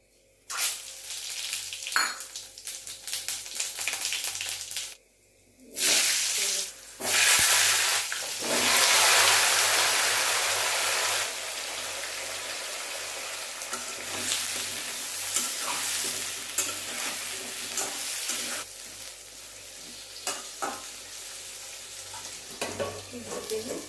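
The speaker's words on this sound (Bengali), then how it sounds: "তেলটা গরম হয়ে গেছে এবারে ফোড়নটা দিচ্ছি তেজপাতা শুকনো লঙ্কা আর জিরে" Bay leaf, dried red chili and cumin seeds hit hot oil for a tempering before a potato and papaya vegetable dish, giving a loud, steady sizzle with bursts and stirring scrapes that continue throughout.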